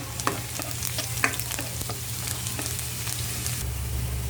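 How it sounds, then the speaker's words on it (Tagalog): Garlic sautés in oil in a pan as the base for pork giniling. A steady, bright sizzle stays close and even, with a couple of sharp ladle taps and a constant low hum underneath. "Lalagyan ko na to ng mantika para makapag-umpisa na tayong maggisa"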